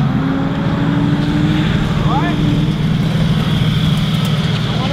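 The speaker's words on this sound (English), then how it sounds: "I think it blew an exhaust gasket." A drift car with a blown exhaust gasket drones steadily at Grange Motor Circuit, its engine note a continuous raspy hum heard from a distance with a brief rising whine partway through.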